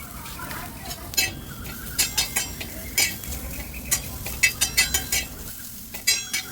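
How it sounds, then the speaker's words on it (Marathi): Garlic, ginger, cumin and coriander dry-roasting in a pan while being stirred, giving uneven scraping and clinking strokes over a low background hiss, with no talk. "इथे मी कोथिंबीर पण भाजून घेत आहे"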